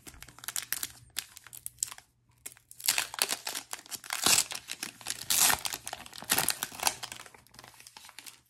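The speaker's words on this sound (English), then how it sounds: "let's get right to the ripping and see what awaits inside." A 2024 Score-A-Treat Halloween football card pack is torn open, with close, quiet crinkling and ripping of the foil wrapper in irregular bursts and short pauses, and no voices.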